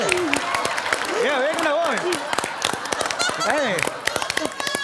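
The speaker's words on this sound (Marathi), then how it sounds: "टाळ्या थांबू आधी" Clapping from a comedy-show audience on a Marathi stage, dense and continuous, mixed with loud whooping, swooping cheers from the crowd.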